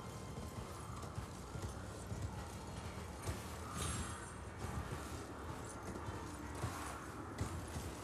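Horse hooves from the video game Elden Ring, a soft, steady clip-clop of a mount's footfalls at low level under game ambience.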